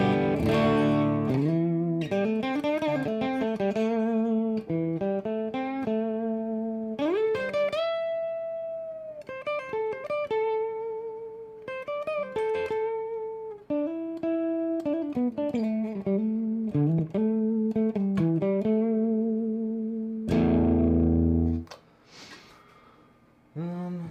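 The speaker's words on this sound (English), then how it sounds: "that's kind of the sound of a clean Mad Amp" An electric guitar, a Woodrite Firecaster, plays a melodic phrase through a clean Mad Amp with low drive and a Boss Space Echo RE-2, notes ringing with sustained echo and a few short breaks, close and clear with no talking.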